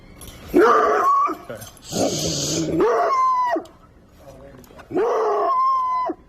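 A dog barks and howls at a fence in long, strained bursts, three loud outbursts separated by short pauses, close by and agitated.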